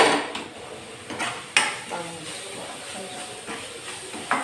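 Salted fish pieces fry in a pan with a soft, continuous sizzle, broken by occasional clinks and scrapes of a utensil against the pan.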